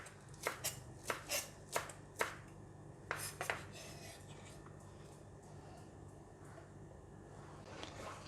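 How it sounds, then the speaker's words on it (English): A knife chops cilantro leaves on a cutting board in a run of sharp, close taps, coming in two quick clusters with short gaps, then going quiet over a soft background hum. "cilantro, I'm going to cut it like that"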